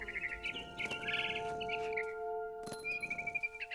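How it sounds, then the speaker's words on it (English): Bright barn swallow chirps and tweets in the video game What Remains of Edith Finch repeat in quick bursts over a steady tonal hum, fairly quiet and close. "Then I heard chirping outside my window. Bird. It was a barn swallow going back to her nest."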